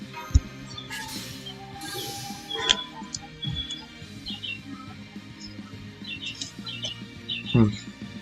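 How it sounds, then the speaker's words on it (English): Birds chirp outside with sparse, thin tweets at a distance over low background hum, with occasional clicks and knocks nearby. "sorry about that chirping sound"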